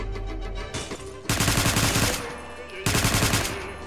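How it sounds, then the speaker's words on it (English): Rapid bursts of silenced SMG gunfire in the Roblox game, loud and close, with two long sustained volleys separated by a brief pause. "I've got a goddamn silenced SMG"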